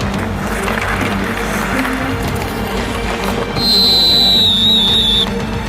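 A coach's whistle blasts once at hockey practice in an indoor rink, a loud shrill tone lasting about two seconds over the rumbling ambience of skates and players.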